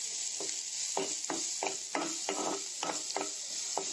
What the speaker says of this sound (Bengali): তেলখিনিতে মই অলপ পিঁয়াজখিনি ভাজি ল'ম